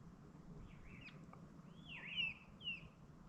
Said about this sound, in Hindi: पक्षियों की ना बहुत सुंदर सुंदर आवाज़ आ रही है।